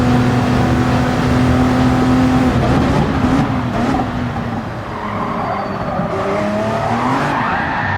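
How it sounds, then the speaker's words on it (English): A race car in Gran Turismo 7 spins out, with a loud, sustained tire squeal over engine noise that bends and fades as the slide ends. "And the car just absolutely spins out."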